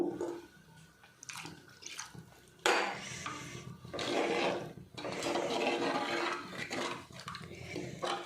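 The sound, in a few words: pouring two glasses of water into fish curry pot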